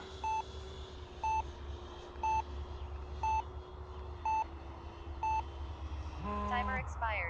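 Flight timer on an RC transmitter beeping six times at steady one-second intervals, each short beep clear over a constant background hum, followed by a brief rising multi-tone chime at the end.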